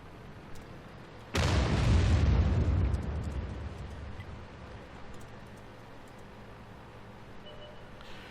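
Artillery shell exploding in the World of Tanks video game, a single loud booming blast that rumbles heavily for about a second and a half, then fades into a long low tail.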